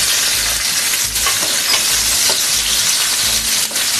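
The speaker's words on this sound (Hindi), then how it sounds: "और प्याज को ट्रांसलूसेंट होने तक हम थोड़ा सा फ्राई कर लेंगे।" A medium chopped onion and five green chillies fry in a pan, giving a steady, close sizzle with faint scraping sounds of stirring throughout and no talk.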